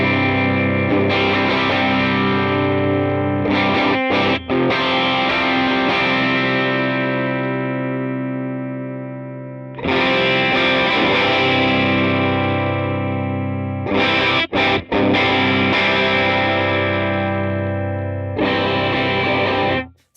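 Heavily distorted electric guitar runs through a Helix 3.5 cab simulation with a virtual 121 ribbon mic, playing sustained chords in long held phrases broken by short pauses, loud and close with no talking.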